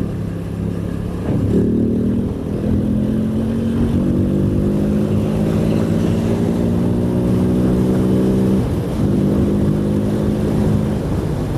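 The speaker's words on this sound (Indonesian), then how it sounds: "suara motor gua masih bisa kedengaran sih ini. Masih terdengar jelas" A motorcycle engine drones steadily with a slowly rising pitch, heard from inside an INK T1 full-face helmet while riding, loud and continuous under muffled wind.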